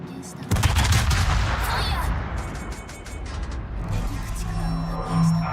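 Naval guns blast in World of Warships with a loud sudden volley, followed by rumbling, crackling reports that fade and then swell again, while someone talks over the action.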